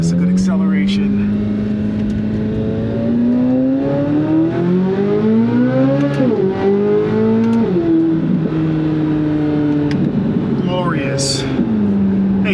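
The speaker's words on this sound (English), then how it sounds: "Let's give this a good acceleration." A Z06 sports car accelerates hard, its engine note climbing steadily through the gears with brief drops at each shift, loud and close inside the cabin while people talk over it.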